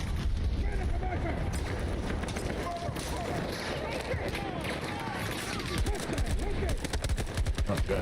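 Enemy gunfire in Battlefield 2042 rattles steadily in rapid, crackling volleys throughout, loud and close, mixed with chaotic battlefield noise and a voice talking over it.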